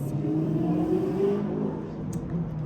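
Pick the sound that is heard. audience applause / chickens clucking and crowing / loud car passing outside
loud car passing outside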